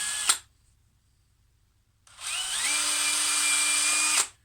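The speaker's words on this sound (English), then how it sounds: "I'm going to be drilling in 2 holes, and I've got a wood drill for this" A brief click, a pause, then a power drill with a wood bit whirs steadily for about two seconds as it bores into a wooden log, close by.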